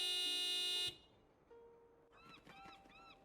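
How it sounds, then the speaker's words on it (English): A van's horn sounds in a point-and-click adventure game, one long steady blast that cuts off abruptly, followed by quieter game chatter and electronic tones. "It's a nice sounding honk. It is a good honk, isn't it?"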